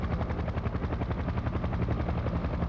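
A helicopter's rotor thumps rapidly and steadily, loud and close, at a winter car rally, with no voices.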